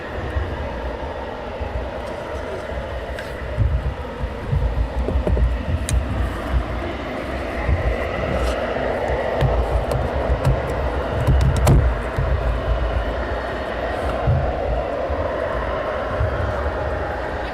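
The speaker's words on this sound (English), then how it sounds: "One more jet taking off by the sound of it." A Eurofighter Typhoon jet takes off at night at RAF Coningsby, heard as a steady, broad roar that swells slightly and holds for the whole stretch, sounding fairly distant.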